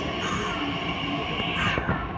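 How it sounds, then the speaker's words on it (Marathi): A Pune Metro train pulls into a station platform with a steady rumbling roar and rising wheel whine, loud and close, with faint chatter on the platform. "मेट्रो आलेली आता"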